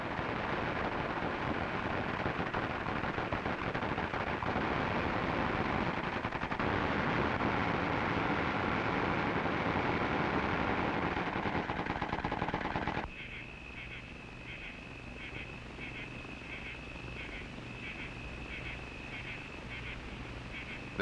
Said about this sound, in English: Sound of gunfire echoes across the range, through the day and into the night.